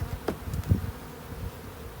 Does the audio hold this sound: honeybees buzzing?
yes